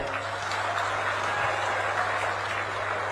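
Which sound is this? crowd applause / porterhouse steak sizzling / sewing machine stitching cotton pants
crowd applause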